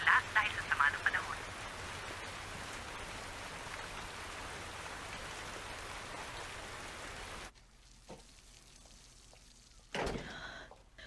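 Heavy rain falling in bad weather, a steady dense hiss of drops hitting surfaces for most of the stretch, then cutting to a quieter, sparser patter.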